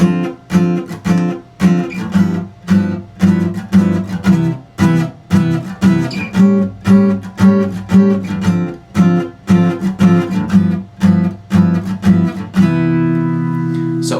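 Guitar in EADGCF tuning strums chords that ring out in a steady rhythmic progression, bright and close, ending on a sustained chord that lets ring.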